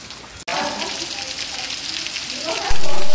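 Heavy rain pouring in northeastern Brazil, a dense, loud, continuous hiss of falling water after a sharp break, with a louder burst near the end and a voice briefly audible.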